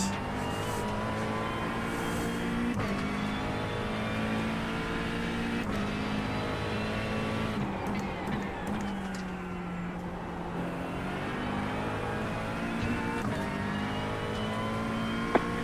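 A GT3 race car engine in iRacing at Bathurst drones steadily, its pitch climbing and dropping with gear changes and revs throughout, loud and continuous with no talking.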